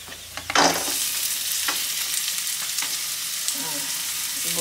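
Onions sauté in a pan for ginataang hipon with a loud, continuous close sizzle that swells sharply as they go into the oil, followed by a few scraping stirs.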